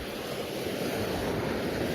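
Rough sea waves surging against a rocky shore, a continuous loud roar of surf with wind buffeting the microphone.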